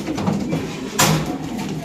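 A white pigeon coos softly nearby, with a brief louder rustle or flutter midway; no speech.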